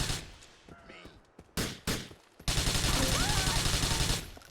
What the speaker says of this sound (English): We can shoot them.